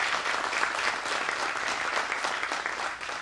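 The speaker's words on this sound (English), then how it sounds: "So a round of applause for them." Conference audience applauding, a dense, steady wash of many hands clapping that carries through at full strength and eases slightly at the end.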